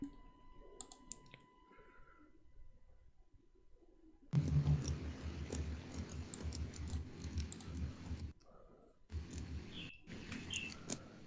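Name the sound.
someone typing on a computer keyboard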